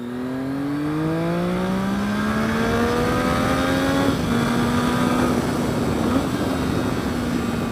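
A Triumph motorcycle, a Daytona or Street Triple, revs hard while being ridden, its engine note climbing steadily and then holding at a high, loud whine with brief throttle blips, and no talk over it.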